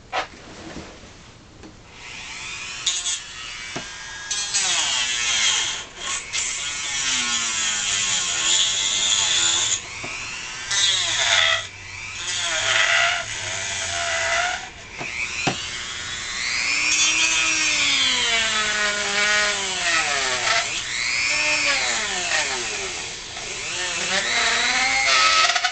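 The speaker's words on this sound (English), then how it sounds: "Then you're going to sand it all out until the PVC fits." Dremel rotary tool sanding out the inside of a plastic Nerf Stormfire blaster so a PVC pipe fits, a close, continuous high grinding whine with shifting pitch as the bit bears down, running for most of the stretch.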